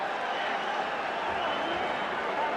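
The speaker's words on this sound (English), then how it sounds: "the crowd in England loves it" Boxing crowd in England cheering and clapping at the end of round 4, a steady broad roar filling the arena.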